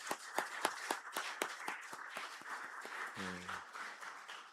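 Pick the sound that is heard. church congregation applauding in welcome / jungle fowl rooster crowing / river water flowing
church congregation applauding in welcome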